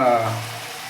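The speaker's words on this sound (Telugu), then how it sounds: "కాసేపు మనం వేగనిద్దాం." Rice frying in a pan: a steady close sizzle and crackle that starts louder and eases slightly, with no voices.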